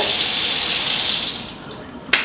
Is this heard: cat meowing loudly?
no